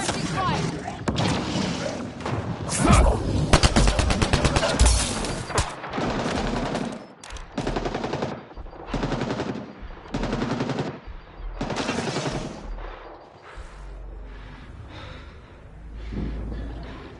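Automatic gunfire in Mass Effect Andromeda comes in loud, rapid bursts separated by short pauses, with heavy breathing and game voices mixed in.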